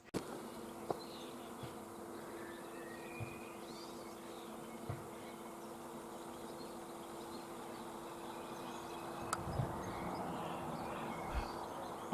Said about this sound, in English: it's just like thousands and thousands of bees